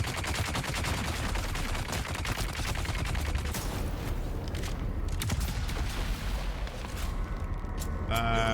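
Dense, continuous heavy-weapon gunfire from the Dune Awakening video game, a loud unbroken barrage of rapid shots with booming impacts that carries through to the end.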